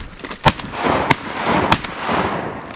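Shotgun blasts during an early-season duck hunt: three sharp, loud outdoor reports about half a second apart, over a low wind-like background.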